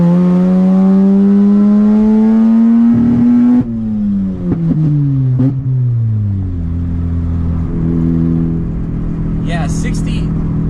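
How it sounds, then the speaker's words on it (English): A stock Mazda RX-8's rotary engine pulls hard, its loud rising whine climbing steadily, dropping at a shift, then climbing and settling again, with faint background noise near the end. "It pulls like really hard. Well, really hard for a stock RX-8."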